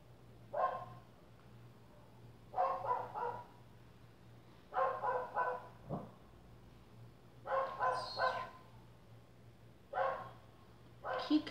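A dog barks repeatedly in regular bursts of two or three barks, each group spaced a couple of seconds apart, fairly close and loud against a quiet indoor background with a faint steady hum.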